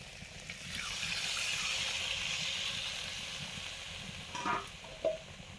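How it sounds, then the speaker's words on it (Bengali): Mustard paste water poured into fried kohlrabi in a pan, a steady broad sizzle that swells and then fades, with a couple of small clinks near the end. "ওলকপি ভাজা হয়ে গেছে, এবারে সর্ষে বাটার জলটা দিয়ে দিচ্ছি।"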